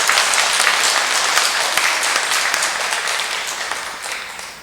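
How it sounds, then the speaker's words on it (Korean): Dense, steady audience applause at a monthly parish meeting, loud and continuous throughout, slowly tapering toward the end with no voices on top. "큰 박수 부탁드리겠습니다"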